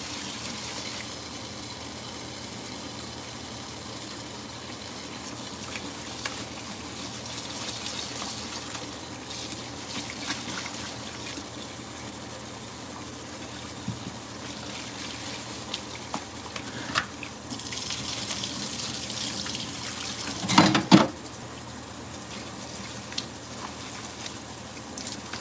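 Tap water runs steadily over rice being rinsed to wash out the starch in a home kitchen, a continuous moderate gush with light patter and a brief louder splash near the end, no voices.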